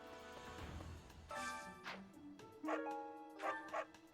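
A dog in Fire Emblem: Three Houses gives several short, fairly close barks and yips in quick succession, spaced unevenly over a few seconds with a quiet background.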